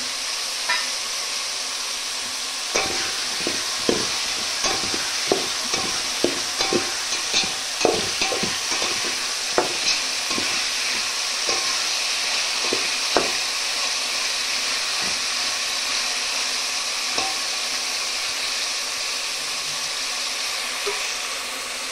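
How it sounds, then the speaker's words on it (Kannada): Tomatoes and spices frying in oil in a pan for palav, a steady close sizzle with repeated spoon scrapes and stirring clatters through the middle stretch, no voices. "ಸೊ ಚೆನ್ನಾಗಿ ಎಣ್ಣೆಯಲ್ಲಿ ಫ್ರೈ ಆಗ್ತಾಯಿದೆ."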